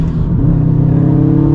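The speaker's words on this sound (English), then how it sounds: "It sounds way better with the titanium exhaust." A Subaru engine with a titanium exhaust, in Sport Sharp mode, revs hard and holds a deep, raspy, droning exhaust note, loud and close, with the pitch climbing slightly as it sustains.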